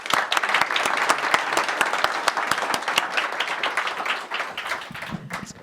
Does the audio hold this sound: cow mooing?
no